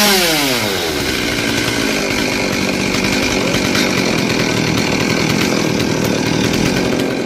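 A chainsaw cuts into a royal palm trunk, revving up from idle and then roaring loud, close and continuous throughout with no speech.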